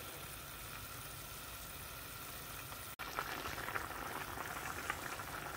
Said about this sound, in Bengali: পাতা হালকা সিদ্ধ হয়ে আইছে